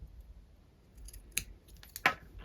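Scissors snip through loose threads and frayed fabric edges on a slip dress, giving two or three quiet, crisp cuts with faint handling noise in a hushed room.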